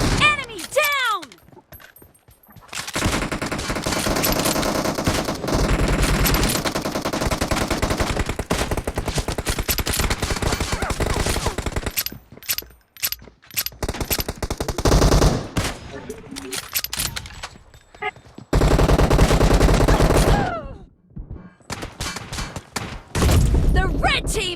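Rapid automatic gunfire from the BGMI team deathmatch shooter, with sustained bursts and fusillades of rifle shots nearly throughout, broken by a few short pauses, loud and close, with game voice callouts mixed in.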